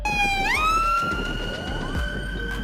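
A bicycle ambulance siren wails loudly up close, sweeping upward in pitch and then holding a steady electronic tone.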